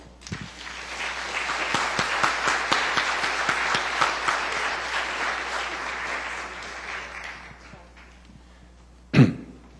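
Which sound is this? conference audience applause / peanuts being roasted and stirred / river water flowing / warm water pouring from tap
conference audience applause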